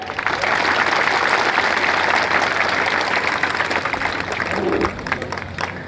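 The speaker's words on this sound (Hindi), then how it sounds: "जोरदार तालियां।" A crowd at an award ceremony for a youth club gathering gives loud, sustained applause, a thick continuous roar of clapping with faint voices mixed in and a brief lull near the end.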